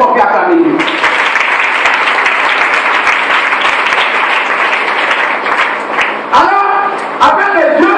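A church congregation breaks into loud, sustained applause and cheering, steady clapping filling the room for several seconds before trailing off, with a voice speaking in French near the end.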